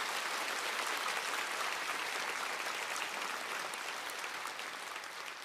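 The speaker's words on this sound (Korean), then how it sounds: "우리 박수로 우리 축하하겠습니다." A church congregation applauds its discipleship trainees in loud, dense, sustained clapping that fills the room and tapers slightly toward the end.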